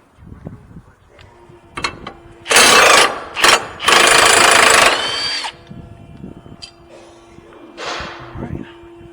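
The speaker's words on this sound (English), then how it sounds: "you gotta take this other bolt off the lower control arm bushing" A power tool on a Subaru Forester removes the lower control arm bushing bolt, with loud close whirring bursts clustered in the middle and quieter mechanical handling before and after.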